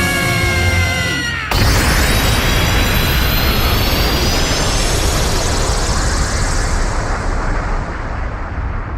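A Dragon Ball Heroes anime explosion opens with a shrill, wavering energy whine, then bursts into a sudden, massive roaring blast that keeps rumbling loudly and evenly for several seconds.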